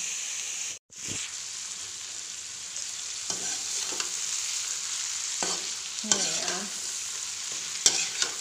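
Onions fry in a pan, giving a steady soft sizzle punctuated by brief scraping stirs, with one short silent gap near the start and louder stirring bursts toward the end.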